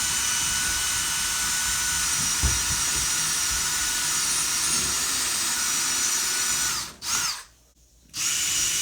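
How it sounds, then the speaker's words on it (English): A power drill with a 1/4 inch bit bores holes in an interior wall, running loud and steady and close by, then briefly slowing and stopping before spinning up again. "drill out those holes with a 1/4 inch bit"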